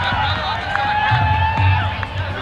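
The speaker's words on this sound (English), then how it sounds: "There's a huge crowd cheering here down on our left hand side." A large crowd at a cricket final cheers and roars in a steady, dense wash of noise, with some brief higher tones rising above the din.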